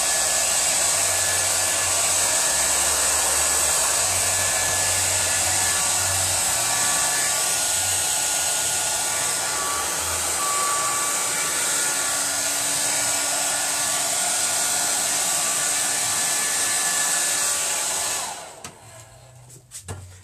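A hair dryer blows steadily and loudly at close range while drying paint, a constant whooshing roar that lasts almost twenty seconds before it cuts off abruptly near the end.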